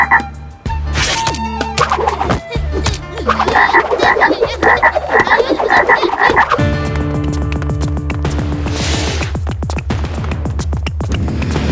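In a Chhota Bheem cartoon, a frog croaks in a run of loud, rhythmic, throaty pulses, followed by a stretch of cartoon music and effects.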